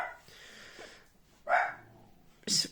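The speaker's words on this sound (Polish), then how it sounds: "W oknie stoi i szczeka przez okno." A dog barks through a window indoors, giving a few sharp, separate barks with pauses between them, close and fairly loud.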